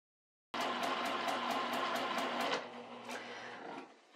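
A sewing machine stitches an inset circle seam in fabric, running steadily with rapid, evenly spaced needle ticks over a motor hum, then easing to a quieter, slower run near the end.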